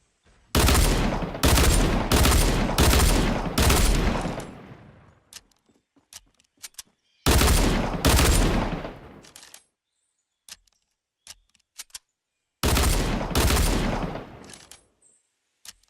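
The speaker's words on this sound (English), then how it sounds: "These shoot both pistols with the pull of one trigger" Akimbo pistols in Fortnite fire together in rapid volleys, three dense loud bursts of gunfire separated by quieter gaps holding scattered sharp clicks and pops.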